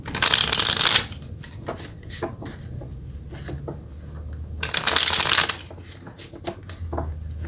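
Tarot cards shuffled by hand to draw a clarifying card, with two loud bursts of riffling separated by quieter handling and soft card taps, close and without talk.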